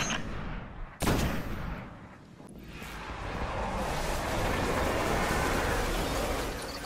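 Gunfire rattles in the Destiny video game during a Nightfall strike, with rapid continuous shots and blasts forming a dense, loud wash after a sharp initial crack, with no talking.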